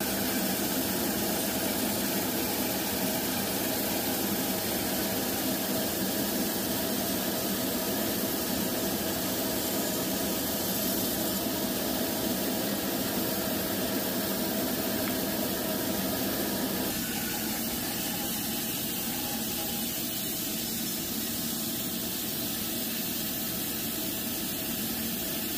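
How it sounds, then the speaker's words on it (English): A bandsaw fitted with a large greenwood resaw blade cuts through driftwood, a loud continuous mechanical drone and whir that holds steady throughout, with a slight shift in tone partway as the cut progresses. "So I put the big greenwood resaw blade on the bandsaw,"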